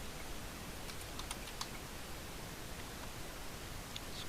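Soft, close keystrokes on a computer keyboard come in a few scattered taps as someone moves between form fields, set against a steady background hiss.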